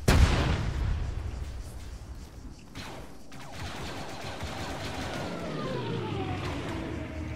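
Heavy aircraft gunfire and explosions in a combat video game, a loud blast up front fading into sustained rumbling bursts and rolling booms, with a whining engine pitch sweep near the end.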